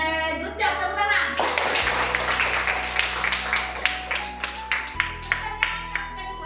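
Classroom students clapping in a school lesson, a burst of many hands clapping that settles into a few scattered, rhythmic claps over background music tones.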